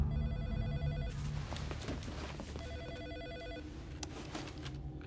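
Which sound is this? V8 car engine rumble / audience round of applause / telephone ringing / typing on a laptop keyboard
telephone ringing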